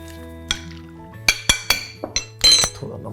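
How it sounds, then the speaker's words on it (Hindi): Oil and a little turmeric going into a pan for Andhra-style green chilli chicken: a series of sharp metallic clinks and taps from utensil against pan and containers, with a brief pouring splash near the end, close and fairly loud. "ये गया ऑयल और हल्दी, बिल्कुल थोड़ी सी"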